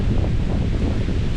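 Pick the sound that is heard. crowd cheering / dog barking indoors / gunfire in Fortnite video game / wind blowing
wind blowing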